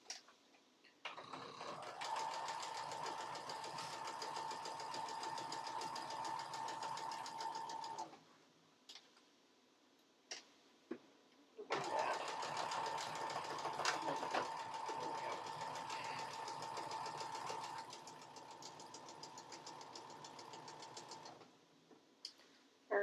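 Sewing machine chain piecing fabric with matched corners, running in two long steady bursts of even rapid stitching, each a few seconds long, with a pause and a few small clicks between them.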